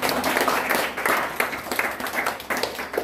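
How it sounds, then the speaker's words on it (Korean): A conference lecture audience claps for a young man, a dense, steady round of applause from a crowd that swells and dips slightly over a few seconds. "이 친구 박수 한번 쳐주죠"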